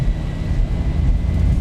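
Boeing 737 jet engines at takeoff power in the X-Plane flight simulator, a steady, loud low roar with a constant rumble and no talking.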